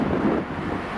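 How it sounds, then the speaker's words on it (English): Wind buffets a microphone at Cardiff Central railway station, a steady low roaring rumble that fills the whole moment. "Windy."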